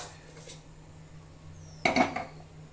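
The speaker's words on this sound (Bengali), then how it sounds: "চিকেনটা বানানোর জন্য আমি প্রেসার কুকার বসিয়ে দেব" A pressure cooker set down on a stove, a single clanking metal knock with brief ringing against a quiet kitchen hum.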